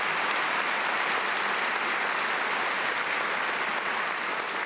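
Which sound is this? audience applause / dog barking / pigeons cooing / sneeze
audience applause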